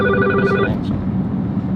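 A mobile phone's electronic ringtone sounds briefly and close by in a garage where a turbocharged N55 BMW 335i is being worked on, cutting off after well under a second against a steady background hum.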